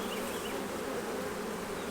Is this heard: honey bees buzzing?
yes